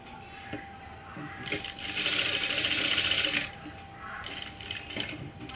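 A sewing machine stitches an umbrella frock in a rapid, rattling whir. It runs in two bursts, the longer one in the middle, with a pause between them, and it sounds close and fairly loud.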